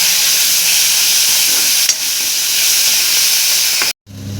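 Tomatoes cooking with salt in a pan give off a steady, loud hissing sizzle as they are stirred, until the sound cuts off abruptly near the end.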